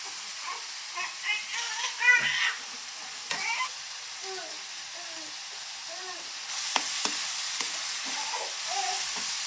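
Food being stir-fried in a pan at home, a soft continuous sizzle with intermittent scraping and stirring clatter that grows a little louder near the end.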